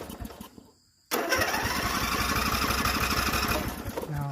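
Craftsman riding lawn mower engine catching on choke after a short silence, jumping straight into a loud, rapid, steady running roar close by, then easing slightly near the end.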